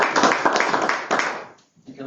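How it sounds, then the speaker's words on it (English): Brief applause at a school board meeting, a cluster of claps that quickly thins and stops, followed by a voice starting to speak. "Let's give her one more round of applause."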